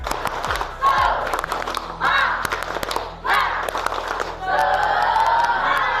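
A classroom group of students performs a spirit clap chant, loud rhythmic bursts of shouted chanting and clapping in several waves, with a short gap between each burst and an energetic crowd quality throughout.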